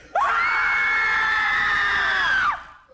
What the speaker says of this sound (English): Okay, North Carolina people, squeeze together, and on 3, give us the scream